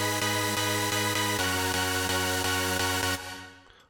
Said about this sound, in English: I'm using this Sharp EDM, number 17 chord D2, it sounds like this.